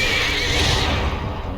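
A horse neighs loudly and close in the video game Lord of the Rings Online, one short, bright whinny lasting under two seconds with nothing else around it.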